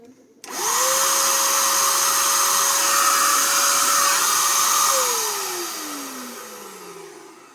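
A TEX.AC TAOE-PSG700 cordless paint spray gun motor whirs up to a steady, loud hum with an airy hiss, holds for several seconds, then winds down with falling pitch.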